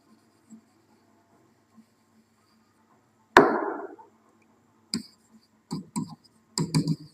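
Chalk or marker strokes on a classroom board during a Hindi matrix lesson, a short scraping burst followed by several quick tapping strokes, fairly close with quiet room between.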